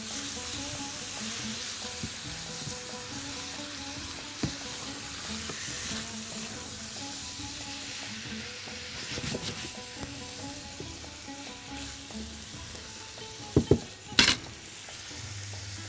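Food frying in a pan with tomato, stirred now and then, producing a continuous loud sizzle with soft scraping and a couple of sharp utensil knocks near the end.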